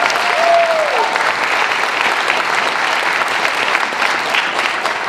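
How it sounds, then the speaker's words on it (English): Steady applause from the audience at the Canadian Folk Music Awards, a dense, sustained wash of clapping filling the hall, with a brief whistle near the start and no talk over it. "I thank you for that applause"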